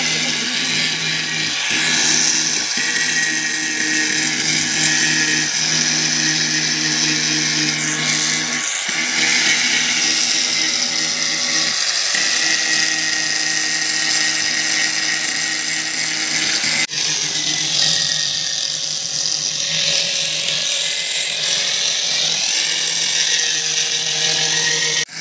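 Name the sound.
grinder working on a patched water tank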